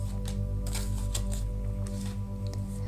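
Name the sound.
tarot cards being shuffled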